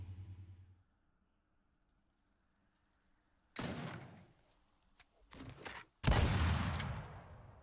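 Shotgun blasts in a video game, fired while testing the gun with affinity: after a quiet stretch, three heavy, booming shots land in quick succession, the last one loudest and trailing into a rumbling echo.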